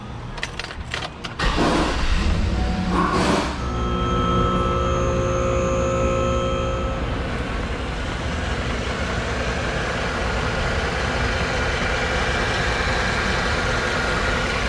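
A GMC Yukon engine cranks briefly and catches, then settles into a steady, close idle with a constant hum and faint tonal whine that continues unbroken, with no one talking.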